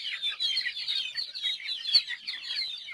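Gamefowl chicks peep and cheep in a constant overlapping chorus at morning feeding on a game farm, moderately close, with no voices over them.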